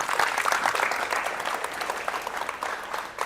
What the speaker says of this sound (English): A big clap to the team.